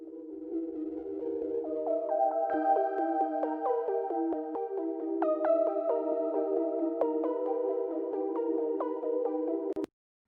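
A plucky synth melody with sustained harmonic layers, fading in as a filter gradually opens and brightens the tone, ending abruptly after about ten seconds.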